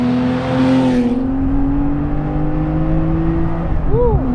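Engine of a Guntherwerks Porsche 993 Speedster while driving, a steady loud drone that holds throughout and swells in pitch near the end, with voices talking over it.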